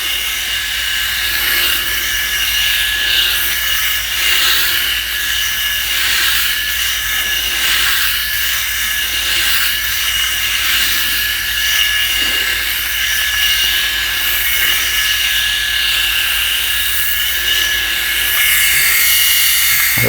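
A Philips electric head shaver cuts with a steady, close, high-pitched buzzing whir that holds constant for twenty seconds, a fine crackly cutting texture running through it and no voices.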